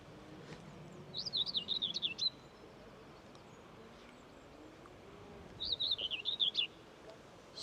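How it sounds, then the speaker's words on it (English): Two short scratchy warbling bursts of common whitethroat song, each about a second long and separated by a quiet pause, over faint outdoor background on the Isle of Wight. "So that is a common whitethroat"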